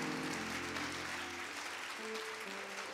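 A congregation at a wedding ceremony clapping steadily, a continuous wash of applause over sustained organ-like tones in the background.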